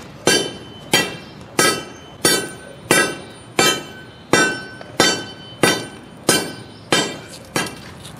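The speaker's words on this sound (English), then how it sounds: "we should be able to just start pounding on this concrete, and it should crack" A sledgehammer pounds a cut concrete driveway slab, about a dozen loud sharp ringing blows at a steady rhythm, close up and with no talk.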